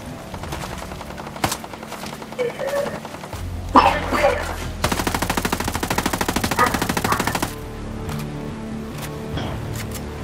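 Rapid automatic gunfire in the tactical shooter Ghost Recon Breakpoint, a sustained machine-gun burst of quick evenly spaced shots after scattered single reports and a low drone, loud and close.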